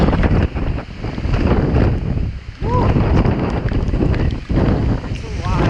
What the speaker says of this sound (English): Probably can't hear me because of the wind